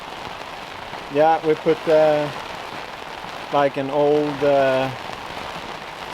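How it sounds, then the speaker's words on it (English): An intense rain squall pours down on a sailboat, a loud, steady hiss of heavy drops drumming across the deck and canvas throughout, while a person talks over the downpour in two short bursts. "Wow, an intense rain squall just arrived"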